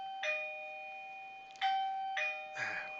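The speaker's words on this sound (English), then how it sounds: "Wait, hang on, I got a doorbell." Household doorbell chiming indoors, several clear electronic ding-dong tones in a quick sequence, ringing out and decaying, fairly faint with a quiet background and no talk.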